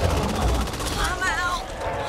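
Gunfire in Back 4 Blood on Nightmare mode: rapid, overlapping shots burst out close and loud over game noise, while players talk over the shooting.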